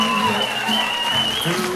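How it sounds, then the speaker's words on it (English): Brief applause from wedding guests under steady tones and a faint voice, filling the short moment evenly. "You can give them a nice big round of applause."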